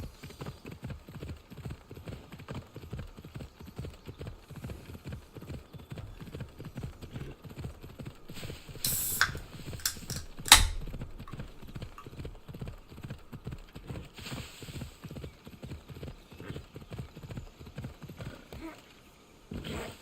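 Steady, rhythmic hoof clip-clops of a horse moving along at a trot, with a few louder thumps and scuffs partway through, in the video game Assassin's Creed Odyssey.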